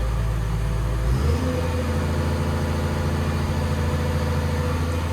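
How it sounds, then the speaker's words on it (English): An excavator's engine drones loud and steady up close, and the pitch rises and the load deepens as its boom is lifted, continuing evenly to the end. "Lift the boom up."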